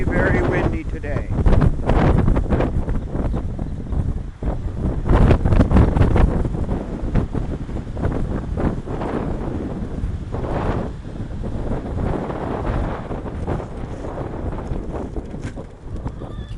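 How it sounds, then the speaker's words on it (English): Strong wind on a farm buffets the microphone in heavy, roaring gusts throughout, with people talking faintly underneath. "Very, very windy today."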